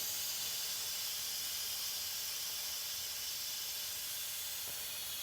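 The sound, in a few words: Instant Pot pressure release valve hissing steam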